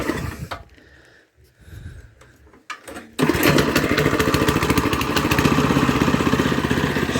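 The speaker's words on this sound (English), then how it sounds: "engine, I believe, just fires straight up" A Haytor Condor rough cut mower engine fires up after some quiet handling noises, then runs steadily at a fast, even chug, loud and close.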